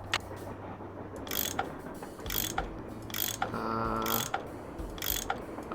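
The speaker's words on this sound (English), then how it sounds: "That tool I saw in the caboose. I bet that's what you use to unscrew these bolts." A tool unscrewing bolts in the Nancy Drew game Last Train to Blue Moon Canyon gives a run of ratcheting mechanical clicks and turns, repeating roughly every second over a low steady hum.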